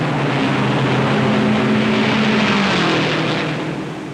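Race car engines at the 1957 Indianapolis 500, a loud, continuous roar with a droning pitch that holds steady, then slowly fades near the end, heard without any commentary.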